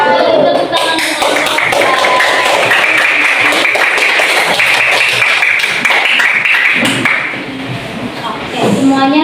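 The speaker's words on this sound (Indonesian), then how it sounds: "Tepuk tangan untuk" Classroom applause after student presentations, a loud, sustained burst of many hands clapping together for several seconds, with voices under it and a brief dip near the end.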